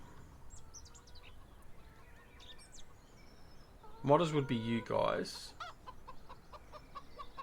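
Chickens cluck at a coop in the Farming Simulator 17 video game, a short burst of loud clucks and squawks in the middle over a quiet background, with someone talking faintly elsewhere.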